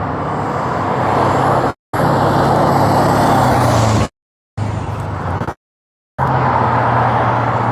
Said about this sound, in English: there's a lot of traffic coming